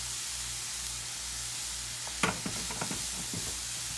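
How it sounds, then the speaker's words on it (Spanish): Cabbage stir-fried with garlic in a pan gives a steady, even sizzle, joined partway through by a cluster of scraping, clacking stirring strokes close by. "Vamos a mezclar y seguimos sazonando con el ajo."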